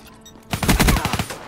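Rapid automatic gunfire from a Haymaker 12 shotgun in the video game Black Ops 3, loud and close, with a quick run of sharp shots in a steady rhythm and no talk over it.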